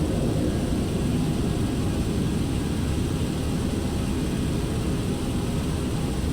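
A simulated Boeing 727 jet climbs out after takeoff, a broad, steady engine roar and rushing noise that holds evenly at the same loudness throughout, with no talking.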